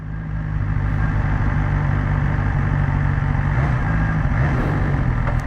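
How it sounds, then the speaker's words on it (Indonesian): A BMW S 1000 XR sport adventure motorcycle idles just after a cold start, giving a steady, close, low mechanical rumble that holds evenly throughout with no talking. "Motornya masih cold start."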